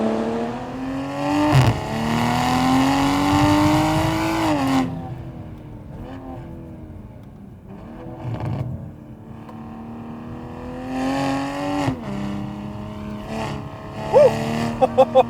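A 2020 Toyota Supra's engine revs and pulls hard under acceleration, a loud, continuous rising drone with several upshifts breaking the climb, heard from the cabin with occasional sharp clicks near the end.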